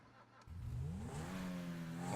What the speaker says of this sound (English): Just listen to the sound of this engine when you hop in.